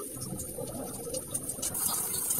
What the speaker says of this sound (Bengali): আমি পাশে জলটা বসিয়েছি, জলটা ফুটে গেছে